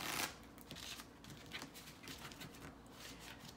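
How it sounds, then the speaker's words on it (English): A deck of playing cards is riffle shuffled for a poker game: a close, continuous fluttering patter of cards interleaving, starting with a louder burst and then steady rustling without talk. "this is how to shuffle the card"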